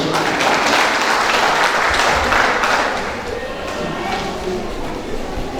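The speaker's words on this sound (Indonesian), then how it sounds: "Mari kita tepuk tangan buat Tuhan Yesus." Wedding guests clap at a church wedding ceremony, a loud, dense round of applause that fades after about three seconds into lighter, scattered clapping.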